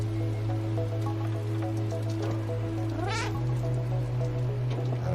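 A cat meows in a video game, one rising mewing call near the middle over a steady, loud musical and ambient game backdrop with tonal hum throughout.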